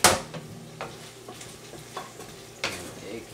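Chicken for biryani cooks in a pan with garlic and ginger, a soft steady sizzle under repeated scraping stirs from a utensil, each stroke a distinct clatter at a loose, irregular rhythm.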